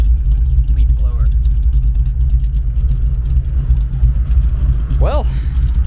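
A 1959 Chevy with Tri-Power carburetion and side exit exhaust idles with a steady, loud engine rumble and deep exhaust note throughout, with brief bits of voice poking through near the start and end.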